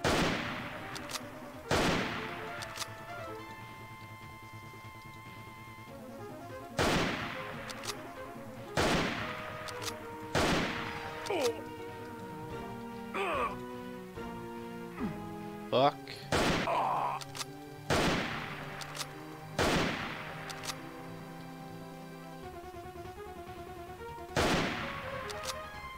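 Rapid rifle gunfire in the video game Skulltag, sharp repeated shot bursts in irregular clusters over a busy game soundtrack, loud and close, with a voice talking now and then.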